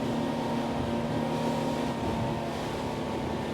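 Windy SR28 CC sportsboat running flat out on a sea trial at about 28 knots, its outboard motor droning loud and steady with constant hull and water rush, no talk.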